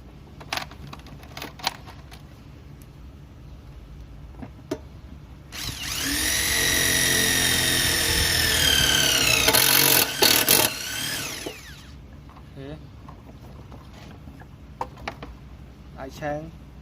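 A TD0101F impact driver fastens a screw in one sustained, loud whirring burst lasting several seconds, framed by quieter handling clicks and taps with a person speaking before and after.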